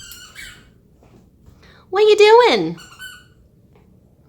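A playful puppy lets out one loud, rising squeak in the middle, with a few fainter squeaks around it, while a person speaks briefly.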